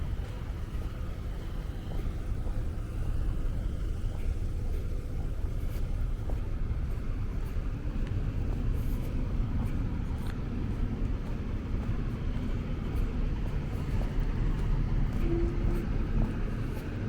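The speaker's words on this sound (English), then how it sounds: "Got another truck here making a delivery, sounds like." A delivery truck idles and rumbles on a Brooklyn city street at 4 AM, a steady low engine drone with wind noise that continues throughout, moderately near, with no talk over it.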